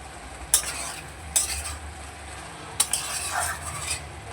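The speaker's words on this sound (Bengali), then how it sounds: "ভালো করে নেড়ে নিয়েছি" A curry fries softly in a pan under a faint sizzle, while a spoon scrapes and clinks against the metal in three or four distinct stirring strokes, close and fairly quiet.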